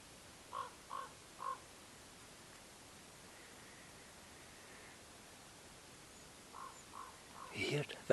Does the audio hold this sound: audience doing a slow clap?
no